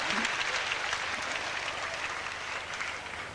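A large crowd applauding loudly at a tennis semifinal, ATP Auckland 2000, a dense sustained clatter of clapping that eases slightly toward the end, heard from the stands.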